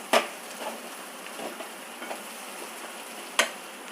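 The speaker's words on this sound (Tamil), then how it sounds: "இங்கே பாருங்கள், நல்லா சேனக்கிழங்கு நல்லா ஃப்ரை ஆகிட்டு, நல்லா எண்ணெய் பிரிஞ்சு நல்லா வந்துட்டு" Elephant foot yam frying in oil until the oil separates, a quiet continuous sizzle with a couple of sharp utensil clinks at the start and near the end.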